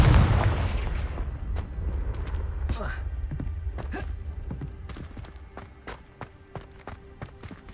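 Confringo spell explosions in the Hogwarts Legacy video game, a heavy boom at the start fading into repeated sharp impacts and cracks amid combat noise, with a voice speaking over it.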